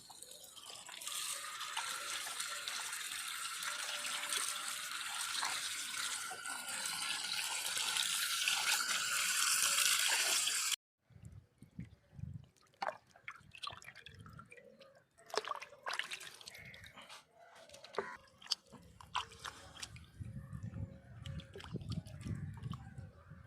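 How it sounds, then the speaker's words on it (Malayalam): Raw chicken pieces are washed under a running kitchen sink tap, first a steady rush of water, then sloshing, splashes and drips as the pieces are rinsed and handled, with no talk. "ഒരു രണ്ട് പ്രാവശ്യമെങ്കിലും വെള്ളത്തിലിട്ട് നന്നായിട്ട് കഴുകണം എന്നാലേ ശരിയാകത്തുള്ളൂ"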